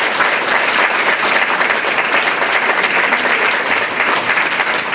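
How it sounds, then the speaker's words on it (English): Sustained applause from an audience at a live talk event, steady and dense clapping filling the whole stretch at close range with no voices over it. "Let's give an amazing, huge round of applause to these amazing speakers."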